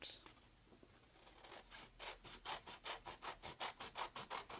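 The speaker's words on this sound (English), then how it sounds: "So I'm going to go ahead and cut this out." Scissors snip steadily through paper or card, cutting out a fish body shape for a rainbow fish window craft, the quick rhythmic rasping cuts growing louder and more regular as they go, close up with no talking.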